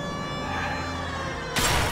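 Police car siren wailing in the VR game L.A. Noire: The VR Case Files, a steady rising-and-falling tone heard close and loud, ending in a sudden louder burst near the end.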